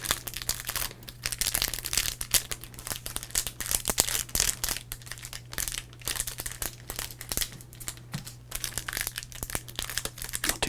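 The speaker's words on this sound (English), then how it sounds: "Let's crinkle." A foil baseball card pack wrapper is crinkled and crushed close up, a steady stream of crackling, rustling handling noise with no talking.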